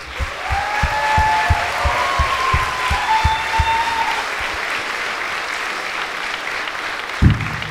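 Applause fills a hall at a Hungarian pro wrestling Hall of Fame induction ceremony, steady crowd clapping with a few loud nearby claps standing out and a faint tonal sound drifting over it.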